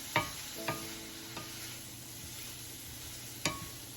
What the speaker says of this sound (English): so far we have the broccoli and onions stir frying